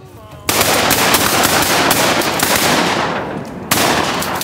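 A duck hunt gunshot blast erupts loudly and close, its rumbling roll carrying for several seconds before a second sharp shot cracks out near the end.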